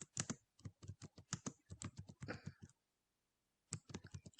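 Fingers type on a computer keyboard, close and quiet, a run of crisp irregular key clicks, a pause of near silence, then a few more keystrokes.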